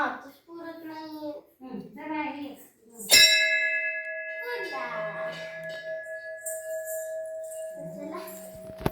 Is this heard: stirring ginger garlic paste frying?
no